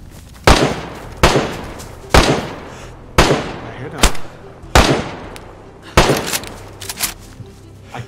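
Gunfire in the survival video game DayZ: seven sharp, loud shots spaced roughly a second apart, each with a short echoing tail, over faint background ambience.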